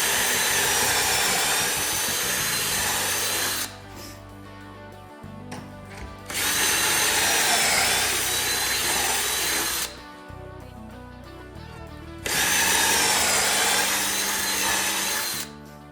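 Power drill boring pocket holes into wood through a Kreg jig for a picture frame, three loud sustained bursts of high whining drilling, each separated by quieter pauses with the motor winding down and clattering handling.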